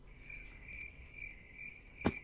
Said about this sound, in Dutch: Net zoals dat krekelgeluidje.